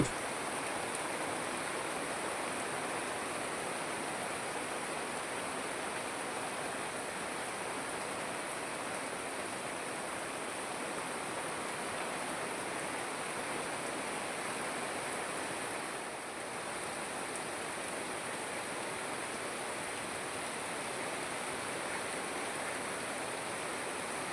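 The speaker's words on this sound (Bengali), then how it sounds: "এখন প্রচুর বৃষ্টি হচ্ছে বাড়ির সামনে" Heavy rain falling in front of a house in a green rural setting, a steady, even wash of dense rainfall heard at moderate distance for the whole stretch without pause or voices.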